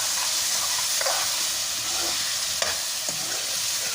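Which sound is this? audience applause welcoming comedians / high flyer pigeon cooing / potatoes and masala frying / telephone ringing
potatoes and masala frying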